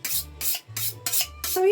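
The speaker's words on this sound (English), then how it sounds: "let's sharpen this knife a little bit" A kitchen knife is drawn repeatedly across a sharpener in five quick rasping strokes, each a close, bright scraping sweep with short gaps between them.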